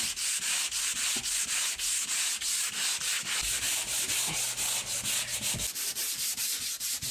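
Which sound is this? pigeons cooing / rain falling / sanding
sanding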